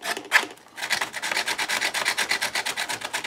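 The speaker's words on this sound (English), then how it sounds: "I'm taking the sandpaper to the shingles, rough them up a little bit so they don't look real new either." Sandpaper rubbing over model roof shingles for a worn, weathered look, a brisk series of rhythmic rasping strokes after a short pause, close and fairly loud with no talking.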